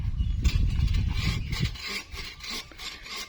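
Close, rhythmic rasping strokes of a hand saw cutting through wood, loud at first, then fading to lighter scraping.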